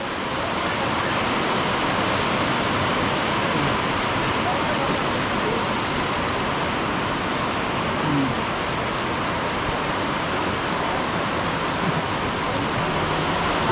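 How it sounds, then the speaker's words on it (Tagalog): Heavy rain pours down steadily and loudly in a dense, unbroken hiss that stays constant throughout, with no voices and no other sounds. "Grabe lakas ang ulan, no?"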